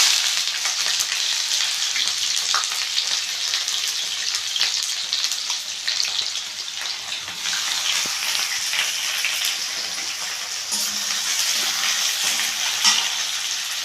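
Onions hit hot oil with fennel and fenugreek, setting off a dense, steady sizzle like light rain that stays loud and close, swelling slightly partway through.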